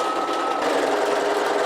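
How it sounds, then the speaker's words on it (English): Sewing machine running steadily as it top stitches fabric for a roll organiser, a fast even whirring hum, loud and close, with no pauses. "And then this is a nice little top stitch."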